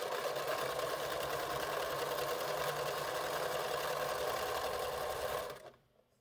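A sewing machine runs continuously while chain piecing fabric patches for four-patch quilt blocks, a steady close mechanical whir that stops abruptly near the end.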